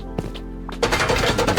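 Automatic gunfire in the survival game Rust, strafing a player-built base: a couple of faint early pops, then from about 0.8 s a loud, dense burst of rapid shots continuing to the end.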